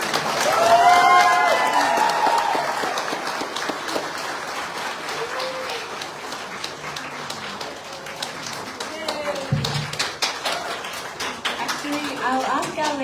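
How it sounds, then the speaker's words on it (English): Audience at a Miss South Pacific pre-pageant interview event giving a round of applause, loud at the start and then settling into scattered, continuing claps with some crowd noise in the room. "So can we please give a round of applause?"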